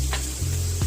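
Onions frying in a little oil for an egg vegetable chow mein, a close, loud sizzle with a couple of brief stirring scrapes breaking through.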